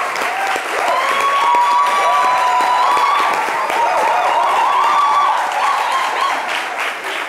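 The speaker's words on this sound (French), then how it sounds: "Merci d'applaudir" A studio audience claps for a guest's father on a French-language midday TV show, sustained loud applause with a faint tonal line running through it, swelling and then tailing off at the end.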